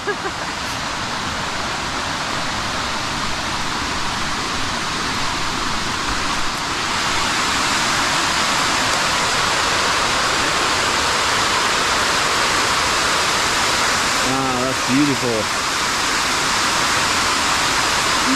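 Water roars steadily down a falls, a loud, constant rushing wash; near the end a person briefly speaks over it.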